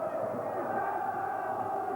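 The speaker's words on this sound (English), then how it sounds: "Excellent crowd in the background with the throw" Steady roar of a football stadium crowd during a throw-in at a 1993 European Cup Winners' Cup quarter-final between Arsenal and Torino, a continuous broad hum under commentary.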